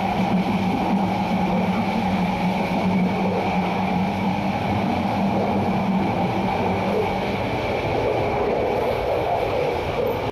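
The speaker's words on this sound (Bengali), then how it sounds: "এই পর্যটক এক্সপ্রেস প্রায় 18টা বগি নিয়ে এই রুটে চলাচল করে" Paryatak Express, a long passenger train of about 18 coaches bound for Cox's Bazar, rumbles along steadily, with a continuous loud clatter and roar heard from inside the moving train throughout.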